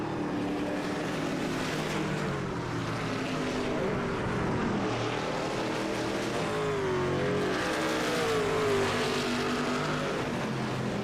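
Truck engines howling around the Lime Rock circuit in the iRacing sim racing game, a steady droning roar with rising and falling pitch as trucks shift and pass, continuous and fairly loud with no talk.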